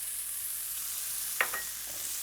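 Finely grated carrot and onion frying in oil in a pan, giving a steady, fairly quiet hiss and sizzle with a faint clink near the middle.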